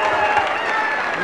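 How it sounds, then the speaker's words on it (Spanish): Brief burst of audience applause at a live event, a short wash of clapping and crowd noise with some voices mixed in. "Un aplauso a Ángel Díaz, por favor."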